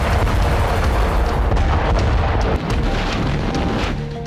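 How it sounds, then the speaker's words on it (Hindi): Grad multiple rocket launcher fire and explosions around Andriivka in Ukraine make a dense, continuous roar of overlapping heavy booms, loud and rumbling, easing slightly partway through. "लगातार रॉकेट प्रहार से रूसी सेना ने इस इलाके के कोने कोने को दहला दिया है"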